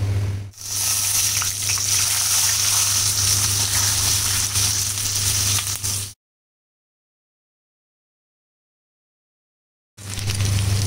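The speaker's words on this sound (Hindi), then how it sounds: "तो आलू जो है थोड़े फ्राई हो चुके हैं. अब मैं इसको थोड़ा सा फ्राई और करूँगी." Potatoes frying in oil with asafoetida give a steady, close sizzle for about six seconds, then a few seconds of silence before the hiss picks up again.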